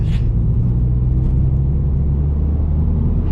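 Remapped Ford Fiesta ST with a TRS Stage 1 tune pulling hard in fourth gear on a damp road, heard from inside as a loud, steady low rumble and engine drone with wind and road roar.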